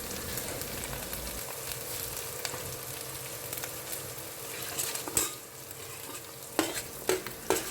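Green chillies sizzle in hot oil for a small-sardine curry, a steady close frying crackle with occasional utensil scrapes and clinks, growing busier near the end.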